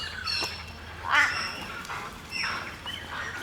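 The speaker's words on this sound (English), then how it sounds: "3 crows over there" Crows squawking at a bird sanctuary, giving a few harsh, fairly distant calls in short bursts over a low steady background hum.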